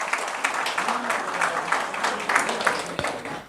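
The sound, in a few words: audience applause welcoming panelist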